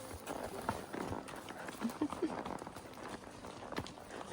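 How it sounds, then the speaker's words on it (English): A spotted horse walks on a trail ride in rural Missouri, its hooves giving a few soft, irregular clip-clops close by under quiet talk. "A pretty spotted horse."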